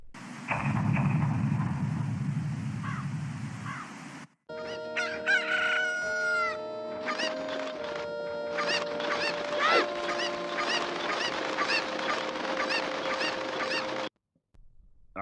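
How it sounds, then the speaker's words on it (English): Several forest chickens crow and cluck around a tent in winter snow, calls overlapping in a busy outdoor chorus after a stretch of low rumbling at the start. "there's 3 forest chickens surrounded my tent, and they're like pecking at the ground"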